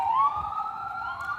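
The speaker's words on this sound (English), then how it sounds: "there's the ambulance too" An ambulance siren passes with a steady, wailing electronic tone, loud and clear with no talk over it.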